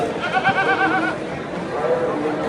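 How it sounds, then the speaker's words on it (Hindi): A large goat of about 200 kilos at a late-night livestock market gives one drawn-out, wavering bleat, loud and close, with crowd murmur around it that fades into a busy background. "भाई का बकरा बर्गमैन से भी बड़ा है भाई।"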